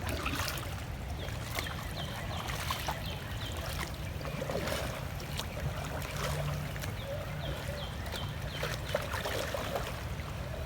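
Kayak paddle strokes dip and pull through calm water, alternating sides to move forward, with a steady wash of water and small splashes across the stretch; no one speaks.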